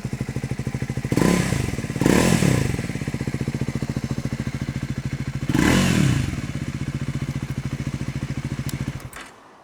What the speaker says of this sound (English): Let's hear the exhaust a little bit now.